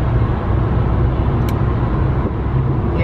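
A car being driven gives a steady, close, rumbling road and engine noise heard from inside, continuous and even throughout with no talk.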